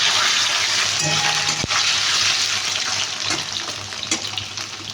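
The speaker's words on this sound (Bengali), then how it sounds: "এই যে পনিরটাকে দিয়ে দিচ্ছি, অল্প করে নেড়ে ভেজে তুলে দেবো।" Paneer pieces fry lightly in a pan, giving a steady broad hiss of sizzling oil throughout, loud and close with a brief clink, and no talking.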